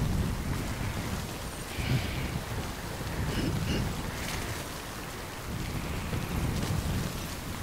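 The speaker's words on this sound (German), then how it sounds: "Der Wind ist zu stark." Strong, gusting wind roars across open terrain in the video game Death Stranding, a dense, continuous rushing noise that swells and eases slightly, loud and steady without any speech.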